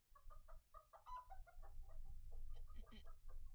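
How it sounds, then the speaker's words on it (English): Chickens clucking in a horror video game, a busy run of overlapping clucks over a low steady rumble, fairly close and moderately loud with no talk. "What's that noise? Our chickens, Henny, Penny, and Maxine."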